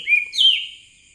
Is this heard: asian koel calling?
yes